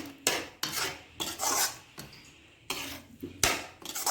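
Coconut, milk powder and sugar for coconut kalakand stirred in a pan, a spoon scraping and rasping against the metal in repeated bursts with brief clinks, close and fairly loud, no talking.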